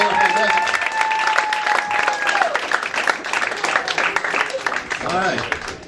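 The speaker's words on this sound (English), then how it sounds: "Give Jordan and Denise a big round of applause." An audience at a stand-up comedy show with magic tricks claps and cheers in a loud, sustained round of applause, with speech running through it.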